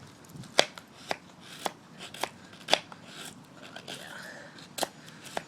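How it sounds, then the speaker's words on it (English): A Spyderco Para-Military 2 full flat grind knife shaving thin curls from wood, with a series of sharp, close scraping cuts at irregular intervals and a faint low voice in between. "You see how well this full flat grind is going through that wood? I mean, it is super thin shavings there."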